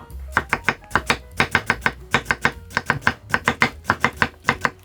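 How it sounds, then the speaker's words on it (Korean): A knife chopping radish into thick strips on a cutting board, rapid close rhythmic thuds in quick bursts of several strokes, alone without speech. "한번 편을 썰어서 무를 썰어 보세요"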